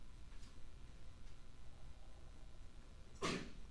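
A single short sneeze bursts out near the end after quiet background hiss, faint and somewhat distant.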